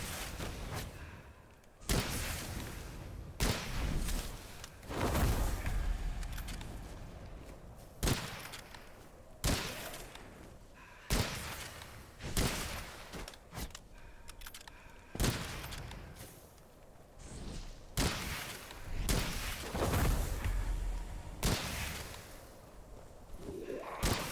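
Repeated gunfire from a weapon in the video game Witchfire, loud bursts and single shots recurring every second or two across the stretch, mixed with thuds and whooshes of action.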